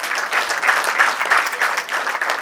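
An audience claps together at a cultural performance evening, a dense, even round of applause with steady rhythm heard at close range, without any voices over it.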